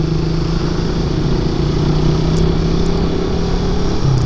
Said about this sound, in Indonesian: bahaya knalpot racing di motor-motor ya kayak ginian